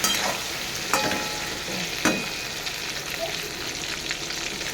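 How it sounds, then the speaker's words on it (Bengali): Constant sizzle of whole pointed gourd (potol) frying in hot oil, broken twice by sharp scraping clatters of a utensil, then settling into an even hiss. "লাল লাল করে পটলগুলো একটু ভেজে নেবো"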